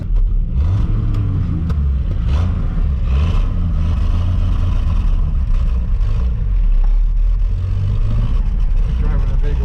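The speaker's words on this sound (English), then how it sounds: "Oh, it's sputtering so bad." A lifted Camaro engine sputters and runs rough while driving on the road, producing a loud, continuous low rumble with uneven surges, while people talk over it throughout.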